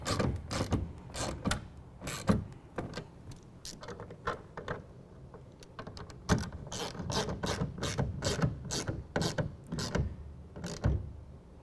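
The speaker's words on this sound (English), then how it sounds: "then we can actually tighten these down. We're going to use a 1/2 inch to do that." A 1/2 inch ratchet tightens the clamps of an UnderCover SE tonneau cover on a 2017 Ford F-150, producing quick bursts of close, crisp clicking with short pauses between strokes.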